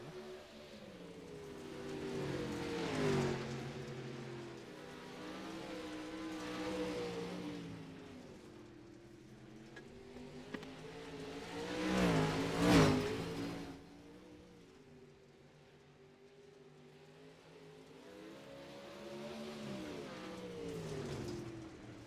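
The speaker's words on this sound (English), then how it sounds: "12 minutes left in practice for these dirt late models" Dirt late model race cars running practice laps at I-55 Raceway, engines swelling and fading in repeated passes as cars roar by, with revving peaks and a distant throaty drone between, no talk.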